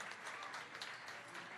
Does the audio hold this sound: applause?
yes